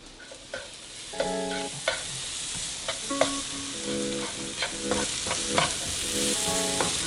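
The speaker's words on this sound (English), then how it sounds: "Make sure you guys stir it up." Scrambled eggs cooking in a pan are stirred with a utensil that clinks and scrapes against the metal in quick, uneven bursts over a soft, constant sizzle, close by and without any voices.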